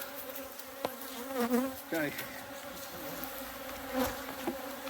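Honey bees hum in a dense, continuous drone up close while a beehive is opened for honey harvest, with louder buzzing passes as individual bees fly near. Someone speaks briefly.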